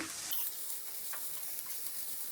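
Bottle gourd peel being stirred in a pan, cauliflower included, gives a faint, thin sizzle with light scraping and scattered ticks, heard quietly with no talking.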